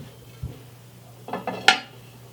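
Ceramic dishes being handled and set down, a soft knock followed by a quick series of clinks ending in one bright, sharp clink, close by with no talking over a faint background hum.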